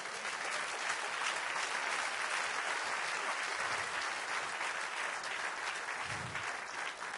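A church congregation claps for the Lord in a dense, even burst of applause that holds steady throughout, heard from a distance at moderate volume.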